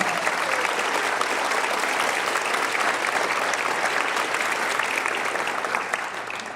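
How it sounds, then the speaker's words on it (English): An audience at a high school scholarship night gives honored seniors a sustained round of applause, dense steady clapping that fills the room for several seconds before easing slightly at the end. "Let's give all these seniors a big round of applause for this honor and recognition."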